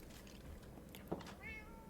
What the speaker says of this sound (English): I also got a cat as well from one of the villages